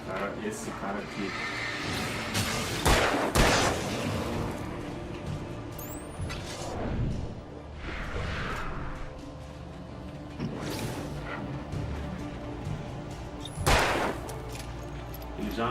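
Gunfire in the Alan Wake video game on Xbox One, several sharp shots with loud bursts near 3 and 14 seconds over a dense, busy game soundscape.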